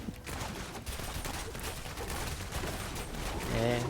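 Rapid bursts of gunfire and bow shots from the action game Diablo Immortal play continuously under game music and effects, dense and busy throughout, with a few musical tones near the end.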